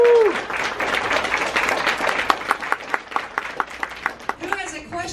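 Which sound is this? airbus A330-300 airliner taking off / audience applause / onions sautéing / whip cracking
audience applause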